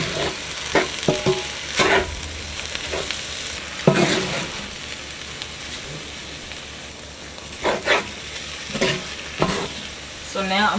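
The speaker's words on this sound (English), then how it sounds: "We're gonna make sure we saute this down as well." Vegetables sautéing in a pan for chicken and shrimp fried rice, a continuous close sizzle broken by bursts of stirring and spatula scrapes.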